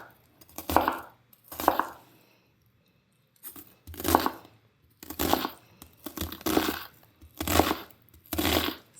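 A knife rough-chops an onion on a cutting board in a close, loud series of bursts, several quick chopping runs separated by short pauses, with one longer gap in the middle.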